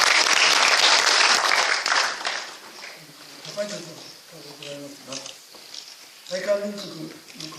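An audience at a national assembly commemoration ceremony bursts into loud applause that fades after about two seconds, leaving a speaking voice with a few scattered claps.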